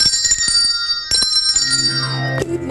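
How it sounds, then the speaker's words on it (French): Hand bell of the door-bell type rung several times in quick shakes, bright metallic chimes ringing close and loud, the last strike left to fade. "c'est la même cloche qu'on utilise pour les sonnettes des portes"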